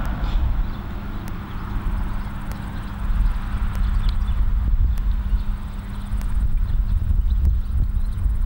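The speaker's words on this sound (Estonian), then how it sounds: "Nii armas hobune, Villu." Horse hooves clip-clopping in a paddock, irregular dull thuds spaced about a second apart over a steady low outdoor rumble, moderately close.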